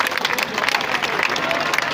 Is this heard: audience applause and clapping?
yes